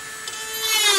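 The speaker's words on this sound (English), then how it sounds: "play with the Dremel and some sandpaper. Good old Harbor Freight Dremel here." A Harbor Freight Dremel-style rotary tool with sandpaper cleans out a Jeep door, giving a steady, close, high-pitched whine that rises slightly toward the end, with no talking.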